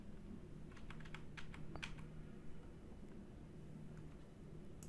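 A short, quick run of computer keyboard keystrokes in the first couple of seconds, then only a low background hiss, with no speech.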